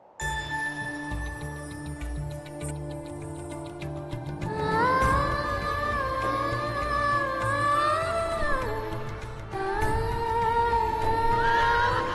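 A horse neighs loudly in a royal court drama, its rising whinny standing out over a steady musical score with no talk.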